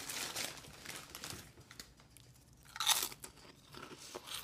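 Crunchy shrimp chips being eaten, with crisp crunching and crinkling bites spread through the clip, one louder crunch near the middle and softer chewing between, fairly close and with no talking.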